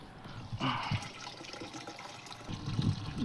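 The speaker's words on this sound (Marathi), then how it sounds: "हे पाणी टाकणं चालू आहे पंप भरून घ्यायला होतं" Water pours and splashes into a 15-litre sprayer pump tank, fairly quiet and uneven, with a few louder gushes.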